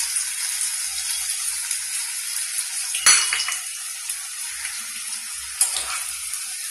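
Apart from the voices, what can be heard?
onion pakora deep frying in oil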